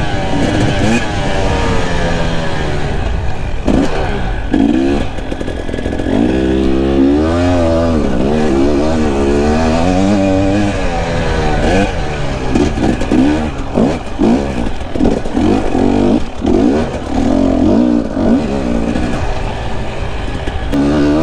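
A 2020 KTM 300 XC-W TPI two-stroke enduro motorcycle engine revs loudly and continuously from onboard while riding, its pitch climbing and falling through repeated throttle blips and gear changes, with wind noise and no talk.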